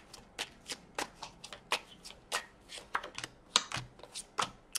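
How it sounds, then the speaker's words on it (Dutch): Tarot cards being shuffled by hand for a weekly reading, a quiet close-up run of crisp riffling flutters and soft slaps, irregular and unaccompanied by speech. "Een kaarten schudden om te kijken wat deze week voor de weegschaal gaat brengen."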